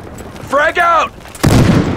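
A thrown fragmentation grenade detonates in the video game Battlefield Hardline, a loud broadband blast near the end of the clip, after a shouted voice line.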